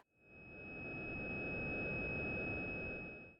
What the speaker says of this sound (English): the Traktor record sounds like this